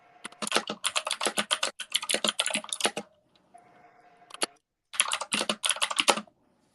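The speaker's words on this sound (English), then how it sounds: "It's usually Al with the clickety clack. Keyboards" Rapid clicking on a computer keyboard in bursts of quick keystrokes with short pauses between, close and clear with no talk, heard during a World Cup watch party for Senegal vs. Netherlands.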